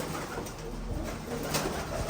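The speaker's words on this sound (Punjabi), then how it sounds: "ਜ਼ਿੰਦਰ ਕਬੂਤਰ ਛੱਡ ਗਿਆ" A pigeon in the village of Kaljharani in Punjab coos softly, its low, rolling calls repeating over steady background noise, with no talking heard.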